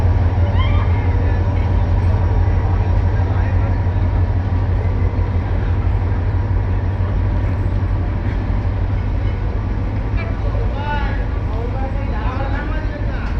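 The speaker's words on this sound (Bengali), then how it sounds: "ট্রেনটি চলে যাচ্ছে" Train pulling out of a station in Gazipur on a winter morning, a steady loud low rumble and rolling clatter throughout, with people talking and faint animal-like calls over the noise.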